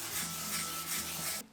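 Rapid, steady sanding scratches across a Honda Civic Si body panel for a moment, close and continuous, then stops abruptly.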